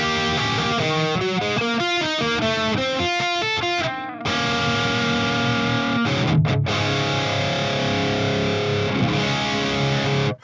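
A heavily distorted electric guitar through an FM9 PRS Archon amp model, mids at maximum, plays rapid chugging notes, then lets ringing chords sustain, loud and gritty throughout.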